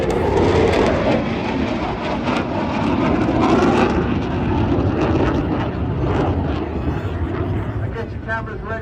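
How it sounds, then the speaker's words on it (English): An RAF Eurofighter Typhoon jet makes a low, fast pass at about 300 feet at the Blackpool airshow, a loud, continuous roar that stays strong throughout, with a voice speaking over it. "aircraft down to about 300 feet. And a fast pass,"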